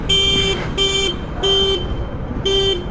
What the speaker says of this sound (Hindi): ये देखो हॉर्न अपने आप बज रहा है